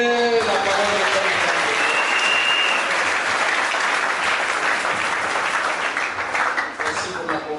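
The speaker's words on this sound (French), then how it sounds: "Est-ce que tu peux acclamer la parole de Dieu?" A church congregation bursts into loud, sustained applause, a dense wash of many hands clapping that fades slightly near the end, with a voice briefly heard over it.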